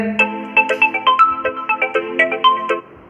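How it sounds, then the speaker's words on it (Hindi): A phone ringtone plays close and loud, a bright chiming melody of quick repeated notes lasting a few seconds before cutting off. "फोन आ रहा है बार बार"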